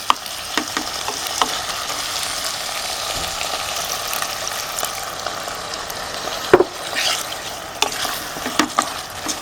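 Chicken keema sizzles loudly over a high flame as water is added, a continuous hissing fry broken by sharp spoon-against-pan stirring knocks.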